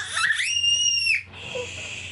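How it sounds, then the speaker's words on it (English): A young child lets out one loud, high, sustained scream lasting about a second, close by, followed by quieter room noise. "Shh, don't scream, honey."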